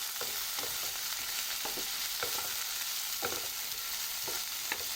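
Pasta in white sauce being stirred in a pan, with a soft steady sizzle under repeated scraping strokes of a utensil at an even, unhurried rhythm, close by with no talk.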